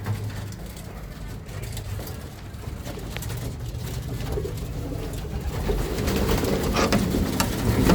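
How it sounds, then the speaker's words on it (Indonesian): Pet pigeons coo softly on a sunny day, low repeated murmuring calls close by under a steady outdoor background of distant traffic hum that grows slightly louder toward the end. "lihat merpati saya ya"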